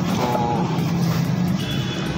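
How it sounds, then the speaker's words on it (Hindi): A vehicle pulls up outside an office, its engine a steady, fairly loud rumble close by, with no voices over it. "लेकिन इधर गाड़ी आई है।"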